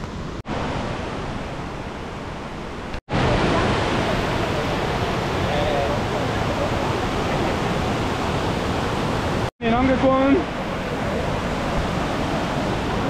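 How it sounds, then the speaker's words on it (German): A waterfall in Chapada Diamantina, Brazil, gives a steady, loud broadband roar of rushing water. The sound drops out in two brief cuts, and a short voice briefly rises above it. "und da kommen wir zum Wasserfall"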